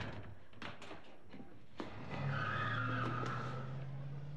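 Car tires screech in a long, loud sustained squeal that starts about midway through, following a few sharp knocks and thumps, with no talking.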